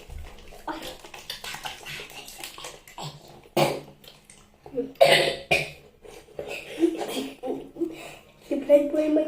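Brad, a person with a cough, coughs several times in short bursts, mixed with nearby chatter from other people and some splashy background noise.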